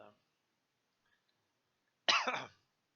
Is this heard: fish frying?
no